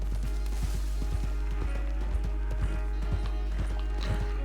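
Horse hooves clip-clopping in Red Dead Redemption 2, a steady trotting rhythm of repeated near hoof strikes with faint game background underneath.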